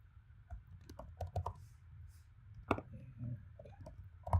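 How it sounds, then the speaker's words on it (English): Keys on a computer keyboard tap in quick irregular bursts with short pauses, close and crisp, with no talking in between. "So Marie, it's hard for me to type and talk at the same time"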